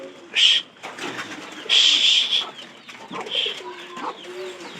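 Chickens cluck in short bursts, with two louder squawks standing out over a busy backdrop of softer clucks from a flock of hens near a pigeon loft.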